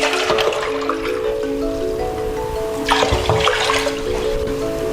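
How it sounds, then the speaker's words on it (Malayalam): Four litres of water pour into a large pot for rice wine made with ration rice and dissolved sugar. The stream gushes steadily and loudly, with a brief surge partway through. "4 ലിറ്റർ വെള്ളം ഒഴിക്കുന്നുണ്ട്."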